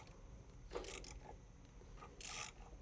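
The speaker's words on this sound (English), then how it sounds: "going to try to take it off with the socket and ratchet" Socket and ratchet working loose the battery hold-down bracket under the tray of a 2014 Toyota Sienna, a few quiet mechanical clicks and scrapes in two brief bursts over a low background.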